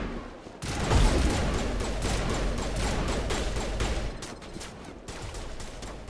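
Coordinated crossfire rattles through a Mass Effect battle on Virmire: a dense, continuous fusillade of rapid shots from several guns, steady and moderately loud, easing slightly toward the end.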